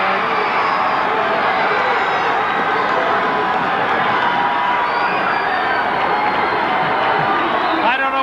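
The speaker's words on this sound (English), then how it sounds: "I don't know what all the cheering's about, Jim." Loud, continuous crowd cheering and shouting fills a gym at a 1994 Norristown vs West Chester Henderson boys high school basketball game after a dunk, a dense roar sustained throughout with whoops rising above it.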